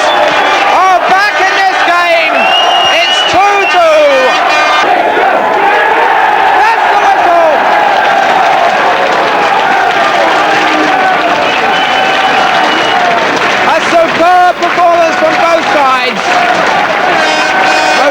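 A football crowd at a Wycombe Wanderers match applauds and cheers after an equaliser makes it 2-2, a steady wash of clapping and crowd noise running beneath a commentator talking throughout.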